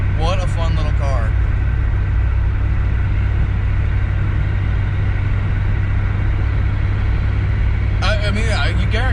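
A 1979 Honda car cruising at about 65 mph with the engine near 3,000 rpm gives a steady, loud low rumble that fills the whole stretch, with voices talking briefly at the start and end.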